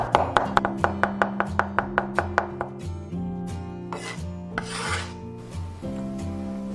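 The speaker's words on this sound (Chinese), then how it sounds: "然后切成蒜末" A knife rapidly minces crushed garlic cloves on a chopping board: about fourteen quick, evenly spaced knocks for three seconds, then slower scraping and chopping, all close and over soft background music.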